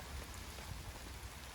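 Heavy rain drumming steadily on canvas camp shelters, a dense, even patter that stays faint and continuous throughout, with no voices.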